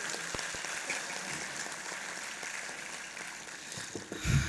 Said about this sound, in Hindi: चिराग शर्मा का जोरदार तालियों से इस्तकबाल